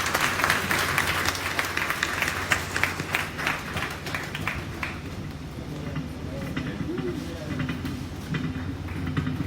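Audience at the Mathrubhumi International Festival of Letters 2018 applauding as Shashi Tharoor and Mihir Bose come to the stage, steady clapping from a large crowd that is loud at first and then tapers off, with a voice over it.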